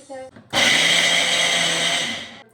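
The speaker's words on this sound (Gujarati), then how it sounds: "હવે ગ્રાઇન્ડ કરવાનું" A kitchen mixer-grinder whirs loudly as it crushes peeled grains for the Gujarati sweet singa pak, starting abruptly after a brief voice and running steadily for about two seconds before cutting off.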